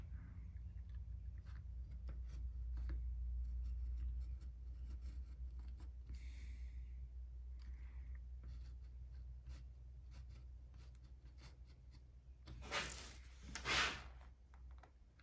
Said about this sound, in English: I'm just using my utility knife here. I'm gonna cut inside my lines.